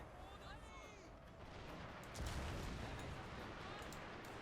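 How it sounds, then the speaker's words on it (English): Naval artillery fire in the Fall of the Samurai strategy game: a dense, rumbling barrage that swells into a louder boom partway through, with muffled battle noise and a voice underneath. "Also, naval artillery."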